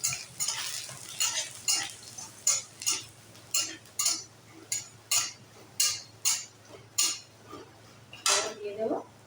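Garlic and taro greens stirred in a pan, a utensil scraping and clinking against the metal in a steady rhythm of about a dozen sharp strokes over a faint background hum, close and fairly loud.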